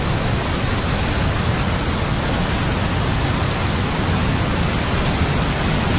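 Steady rain falls in cold weather, a dense, even hiss that holds at the same level throughout with no breaks, no thunder and no voices.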